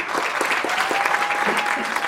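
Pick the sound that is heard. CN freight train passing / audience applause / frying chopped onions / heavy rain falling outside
audience applause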